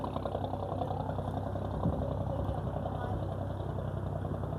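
A boat engine idles on Dubai Creek at night, a low, steady rumbling hum nearby that continues beneath a voice talking.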